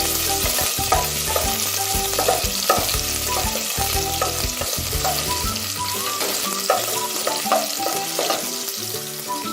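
Sliced red onions fry and sweat in a pan toward golden brown, a loud, steady sizzle with frequent clacks of a stirring utensil scraping the pan, close up throughout with no voices.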